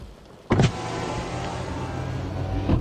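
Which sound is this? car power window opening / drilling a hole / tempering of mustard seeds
car power window opening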